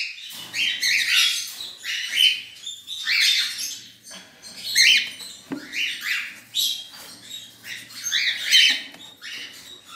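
Young lutino and wild-type parakeet chicks in a nest chirp and squeak in repeated loud, close bursts, with brief pauses between calls.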